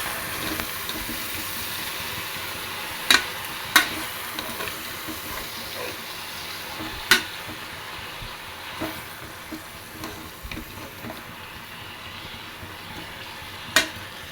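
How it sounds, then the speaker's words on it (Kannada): Tomato being stirred into a greens sambar in a cooker, a soft steady scraping and bubbling with a few sharp spoon clinks against the pot, no talking. "ನೋಡಿ ಈ ಥರ ಚೆನ್ನಾಗಿ ಮಿಕ್ಸ್ ಮಾಡ್ಕೊತಾ ಇದ್ದೀನಿ."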